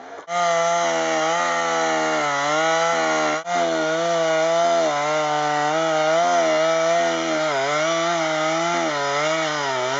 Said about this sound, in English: Some hot chainsaw action.